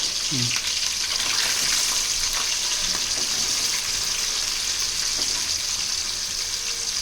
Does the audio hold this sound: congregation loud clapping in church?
no